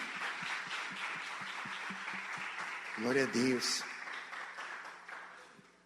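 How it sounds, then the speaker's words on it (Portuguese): A church congregation claps in praise, a fairly steady, rhythmic patter of hands under a voice speaking briefly over it before the clapping fades. "as palmas louvam ao Senhor"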